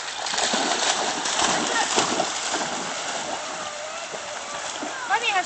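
A dog swims and paddles through creek water, giving continuous sloshing and splashing close by, with people chatting over it throughout.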